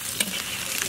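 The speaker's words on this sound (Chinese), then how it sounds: "猪尾巴这么炒一下" Pork tails stir-fried in a dry wok without oil give a soft, steady sizzle with a sharper scrape or clink near the start, close and continuous, no voices.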